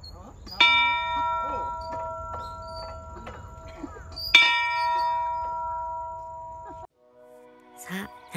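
A bell at the top of Enoshima is rung twice, each clear metallic strike ringing out with a long sustained tone, while people talk nearby.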